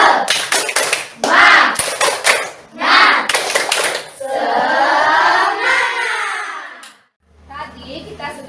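A classroom doing the Indonesian 'tepuk semangat' spirit clap: bursts of rhythmic hand claps in quick sequence, mixed with children's chanting voices, followed by a sustained group cheer and a short quieter tail.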